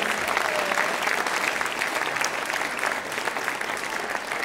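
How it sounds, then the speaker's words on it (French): A crowd claps warmly at a Christmas show, a thick, continuous patter of many hands close by that holds steady and only eases slightly toward the end. "Vous pouvez les applaudir bien fort."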